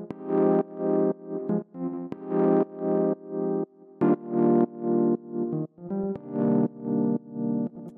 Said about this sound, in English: the first sound we have here is this Rhodes